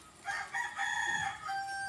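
A tame backyard rooster crows once, near and loud, in a short, strained call lasting under two seconds, with no voices around it.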